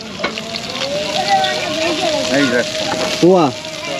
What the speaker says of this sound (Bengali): কি মাছ রান্না করতেছেন